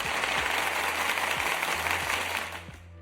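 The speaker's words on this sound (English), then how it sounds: "some applause for you guys" Applause sound effect on an NFL awards predictions show: a dense burst of crowd clapping with a faint low hum underneath, holding steady before fading out near the end.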